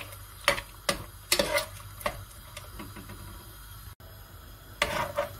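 Lamb curry with turmeric, salt and paste being stirred in a pot: a handful of brief scraping strokes spaced irregularly, fairly quiet and close, with no talking.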